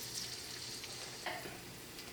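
Finely chopped ginger and garlic fry in hot coconut oil, making a soft, even sizzle that stays low throughout, with one brief, slightly louder crackle near the end.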